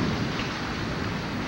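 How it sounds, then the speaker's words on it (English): Heavy rain pours down in a thunderstorm, a dense steady roar with deep low rumbling beneath it, loud and continuous with no voices. "Well, the thunder really says it all here."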